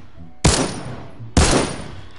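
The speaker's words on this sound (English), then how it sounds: "Oh, we're shooting at him." Two loud video game gunshots, each a sharp blast with a decaying tail, spaced about a second apart.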